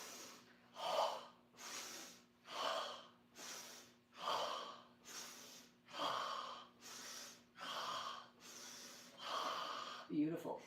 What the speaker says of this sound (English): we're going to speed up the tempo and we're going to breathe into